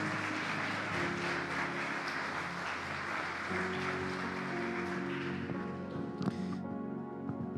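A church congregation claps in sustained applause, a dense wash of clapping with music playing underneath, which thins out toward the end.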